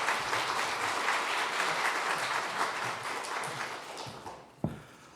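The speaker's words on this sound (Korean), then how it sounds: "우리 박수 한번 해서 맞이하겠습니다" A church congregation at a New Year special dawn prayer service claps to welcome guests, a soft, steady round of applause that fades out, followed by a single sharp thump at the end.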